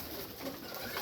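Pigeons in a loft give soft, low cooing calls, faint and close, over a steady airy background with no talk.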